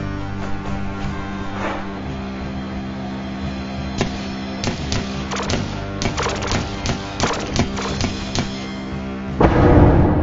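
Gunshots in a comedic arts TV show: an irregular burst of sharp, crackling pops that cluster densely in the middle and fade out, with no talking.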